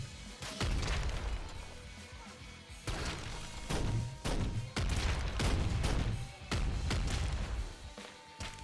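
The auto mortar in the game Nuclear Throne launches rapid bursts of explosive booms, loud, ragged blasts following one another in quick succession with short gaps between volleys.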